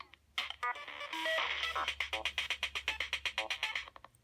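A Teenage Engineering Pocket Operator plays electronic drum hits and synthetic tones that tick along in a quick, evenly spaced pattern, bright and clipped, forming a steady repeating beat.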